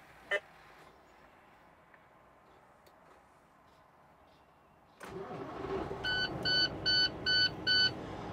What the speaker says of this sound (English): We're gonna start our engine.